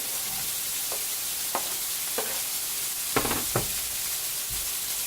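Diced potato cubes fry with onion in a hot pan, giving a constant bright hiss broken by a few soft scrapes and clinks of stirring, close by and without talk.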